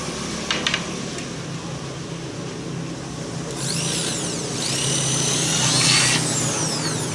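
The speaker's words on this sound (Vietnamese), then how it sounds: "mình khoan mũi 4 vào đây, khoan chéo xuống các bạn" A power drill bores into a bird trap net frame, its motor whining steadily up and down in pitch for several seconds, near and fairly loud with some background hiss.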